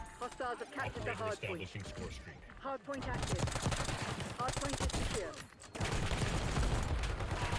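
Rapid bursts of gunfire from Black Ops 6 multiplayer, loud and dense, with several clustered volleys in the second half; someone talks over the shooting.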